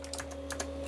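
Function keys tapped on a 1988 Dell System 200 keyboard with an Intel 80286, several quick, close key clicks over a steady electrical hum.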